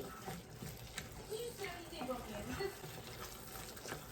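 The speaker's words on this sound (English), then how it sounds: "the next thing I'm going to be adding is paste. And I'm going to stir." Tomato paste being stirred into a simmering Nigerian-style bolognaise sauce in a pan, with soft scraping and bubbling sizzle at low level, and a voice talking over it.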